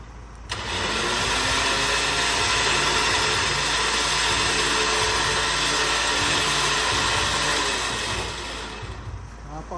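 A DXT Vulcan 12,000 lb electric winch mounted on a Ford Ranger reels in its line with a steady, loud motor whine and hum. It runs continuously for about eight seconds, then drops off near the end, with no talk.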